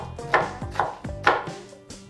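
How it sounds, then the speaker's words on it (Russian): An ordinary onion being finely chopped with a knife on a board, giving four or five distinct close, crisp cuts spaced about half a second apart, with no talk. "Очень мелко ее шинкую, как обычно."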